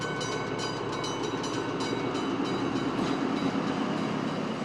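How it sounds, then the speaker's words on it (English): A passenger train rolls steadily through Wodonga at night, a loud, continuous rumble of wheels and carriages with a broad rail roar throughout, heard up close and without any talk. "The last passenger train on the Wodonga tracks passing through just before midnight"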